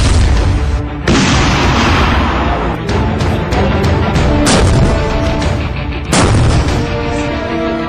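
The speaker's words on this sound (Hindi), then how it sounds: "अभी आपने जो मिसाइल फायर देखा वो T-90 टैंक से था" A T-90 tank firing a missile, rendered as loud, dense booming blasts with heavy rumble that fill the whole stretch, breaking into several distinct bursts, the sharpest cutting in near the end.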